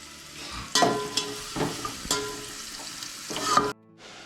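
Onion dropped into hot oil for a homestyle chicken curry, bursts of loud sizzling with stirring clatters at irregular intervals, then cutting off abruptly near the end.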